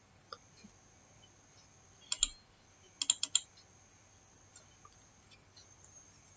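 Quiet clicking of a computer keyboard as a spreadsheet formula is typed, with a few short bursts of keystrokes and scattered single taps over a faint steady hum and high whine.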